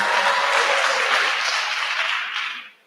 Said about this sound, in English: A round of applause for Lillian.